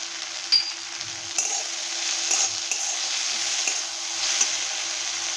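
Okra (bhindi) with salt stirred in a hot pan: a bright steady sizzle with intermittent scraping and clinks of a spoon against the pan, close and without speech.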